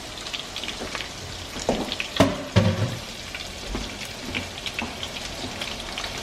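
Shrimp laid in an even layer sautéing in a pan for linguine, with a continuous crackling sizzle and a few louder clatters and bursts near the middle.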